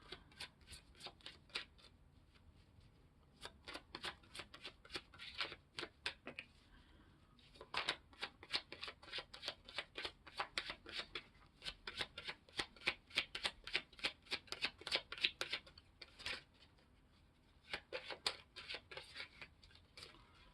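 Tarot cards are shuffled up close in quick riffling bursts of crisp flicking, separated by short pauses. The sound is fairly quiet, with no voices.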